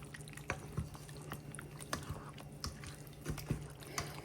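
Milk and egg mixture being stirred into vegetables for a sausage and pepperoni quiche, giving soft, irregular wet clicks and squelches from a utensil in a bowl, close and fairly quiet.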